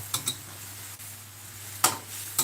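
Shallots fry in a pan until golden in a home kitchen, with a soft steady sizzle broken by a few sharp clinks and scrapes of a utensil against the pan.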